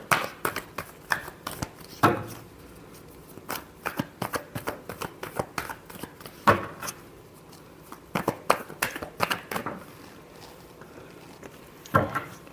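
Tarot cards are shuffled by hand in quick bursts of riffling and patter, close and fairly soft, with short pauses between rounds and sharper flicks at a few moments.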